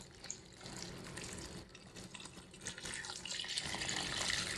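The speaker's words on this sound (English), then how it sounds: "This is 2 quarts of water, and you want to pour enough in to be able to cover your peas." About two quarts of water pour steadily into a pot of black-eyed peas, a close, continuous splashing and gurgling stream with no voices.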